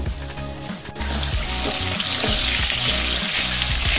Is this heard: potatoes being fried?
yes